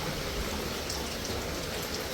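Steady rain falls throughout, a dense even hiss of drops on surfaces with no voices, close and continuous with no breaks or changes in intensity.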